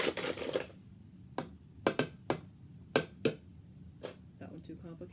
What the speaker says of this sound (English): let's see how the other one sounds with the coins